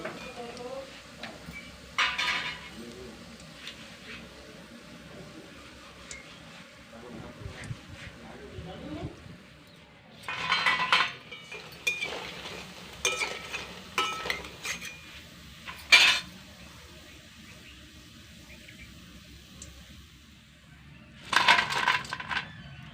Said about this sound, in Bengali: এবার একটা ছাকনা দিয়ে এগুলোকে তেল থেকে তুলে নেব।